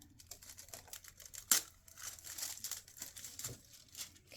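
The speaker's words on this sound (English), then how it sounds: "So I'm going to tear that away." Embroidery stabilizer is torn away from an appliqué piece in a run of close, soft crinkling and ripping noises with one sharper snap partway through, no voices.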